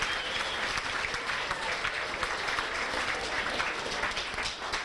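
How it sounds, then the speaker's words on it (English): At a high school fall sports banquet and awards ceremony, an audience gives the kitchen staff a steady round of dense clapping that fills the room evenly from start to finish. "If we could give them a big round of applause."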